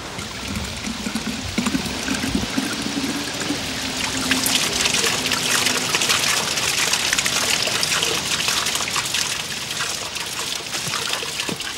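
Spring water in the Plzeň region pours steadily from a well outlet, a loud continuous splashing gush with trickling detail throughout, no voices.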